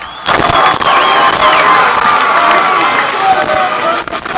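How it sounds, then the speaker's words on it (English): Ridge Point baseball fans cheer and shout at a regional final game after a strikeout, a loud, sustained crowd roar with whistles and yelling voices layered over scattered claps. "I want you to hear the Ridgepoint fans cheering"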